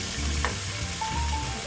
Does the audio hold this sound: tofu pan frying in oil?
yes